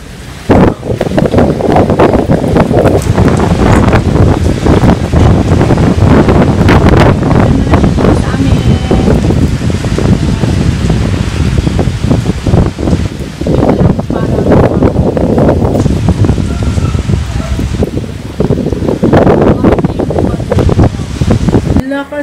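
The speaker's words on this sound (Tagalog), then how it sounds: "lakas ng hangin" Strong wind roars steadily on a rainy afternoon, a loud, close rush of gusts and buffeting on the microphone, with rain swept along beneath and a person talking now and then.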